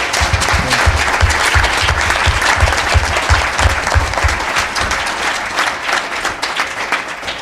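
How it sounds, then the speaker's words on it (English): Warm audience applause for panelists at a community forum, a full, continuous burst of clapping from a room of people, loud and close with a rhythmic low thud from nearby hands, tapering slightly toward the end. "can we just give a really warm applause to all of our panelists"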